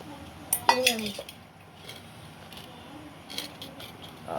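Metal tiffin boxes clink and clatter as they are set down, a short cluster of bright knocks near the start followed by quieter shuffling sounds.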